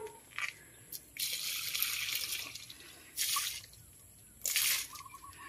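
Water splashes onto potted plants during watering, coming in three bursts of spraying and trickling with quieter dripping pauses between them, fairly close and with no talking.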